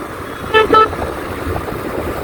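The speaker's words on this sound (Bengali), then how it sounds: "আমি কিছুক্ষণ চুপ থাকি তাহলে আপনারা বুঝতে পারবেন কি পরিমাণ হর্ন আর সাউন্ড আছে।" Car horns honking on a busy street, two short toots close together near the start over steady traffic rumble, alone without talk.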